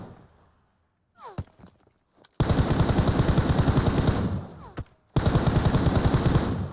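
MG3 machine gun fire in PUBG Mobile, two loud, rapid sustained bursts with a distinct rhythm, preceded by a few single shots and separated by a brief pause.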